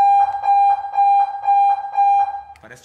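A car horn plays a loud, steady electronic alarm sound, beeping in a rapid repeating pattern, then cuts off into a brief rustle at the end.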